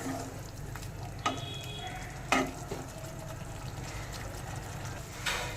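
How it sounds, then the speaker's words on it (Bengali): Tomato masala for a bele fish curry being stirred and fried in a pan, giving a low steady sizzle with a few scraping and clinking spoon strokes, close but quiet, without speech. "এটা আবারও নেড়েচেড়ে একটু ভালো করে কষে নেব"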